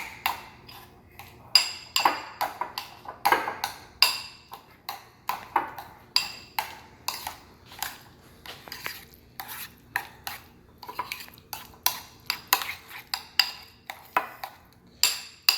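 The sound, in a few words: mixing deviled egg filling in a bowl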